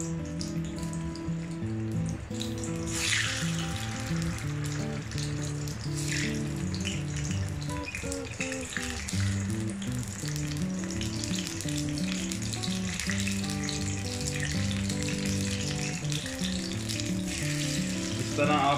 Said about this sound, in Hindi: इस तरह आपने फिश को फ्राई करना है।